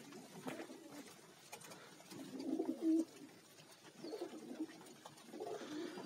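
Pet pigeons coo softly during a morning feeding on an overcast autumn day, several low, throaty rolling coos repeating across a faint outdoor background.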